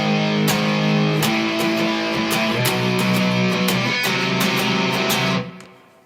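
Distorted electric guitar chugs through the breakdown of the Fire Force opening theme, loud, dense palm-muted power chords punctuated by sharp accented hits, ringing out alone before a quick fade at the end.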